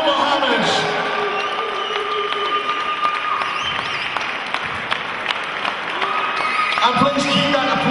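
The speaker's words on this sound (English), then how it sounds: "please keep that applause going for our runner-up from Denmark, Rasmus Bendtsen" A crowd applauds after a unanimous judges' decision in a title fight, with steady, sustained clapping and some cheering under an announcer's amplified voice.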